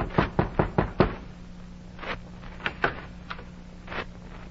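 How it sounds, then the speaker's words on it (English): A quick run of five sharp knocks on a door, followed by scattered softer thumps and taps. "knocked at the printer's door"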